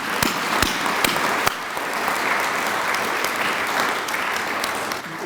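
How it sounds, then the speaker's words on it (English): An audience at the grand opening of a new event center breaks into steady, dense applause, loud and close, with a few sharp claps standing out at the start before the clapping settles into an even roar. "I'd like to have a round of applause for that company"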